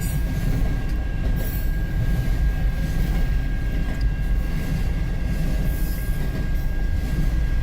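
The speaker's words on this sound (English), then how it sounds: "That's a long train." A long CN freight train of empty car-hauler wagons rolls past in Richmond, Michigan, a loud, steady rumble of wheels and cars that never lets up, with no voices over it.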